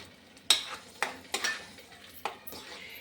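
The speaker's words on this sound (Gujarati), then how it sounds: "બટાકાને આપણે મિક્સ કરી લઈશું સરસ." A spoon clinks and scrapes against a bowl while potatoes are mixed for Kutchi kadak street food: about five sharp, close clanks spaced roughly half a second apart, with quieter rustling between them.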